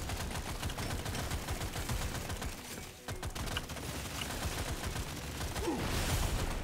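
Rapid, continuous gunfire from Deep Rock Galactic Survivor rattles throughout, dense overlapping shots at a fast steady rate, loud and close with no talking.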